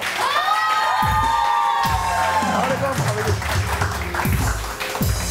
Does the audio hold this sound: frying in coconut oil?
no